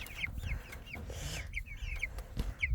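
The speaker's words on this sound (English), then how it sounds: "Those chickens." Chickens, including black copper marans, cluck on a farm, several short rising clucks and chirps in quick succession, fairly close and quiet against low background noise.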